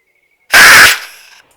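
A 40 Mike launcher fires a load of BBs in a single loud, sharp blast that ends quickly and trails off in a short fading rattle, following a faint tone and preceded by silence.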